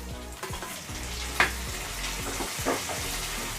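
Chopped tomatoes sautéing with onions and garlic in a pan for paruppu urundai kulambu, a steady close sizzle with rhythmic scraping and stirring strokes and a few sharp clinks of the spoon.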